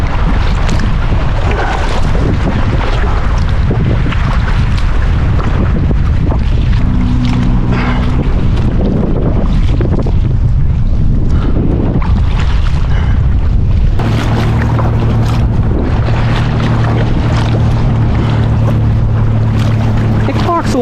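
Strong wind buffets the microphone while a backpack kayak is pedaled across open water, a constant loud rumble and roar with brief tonal hums.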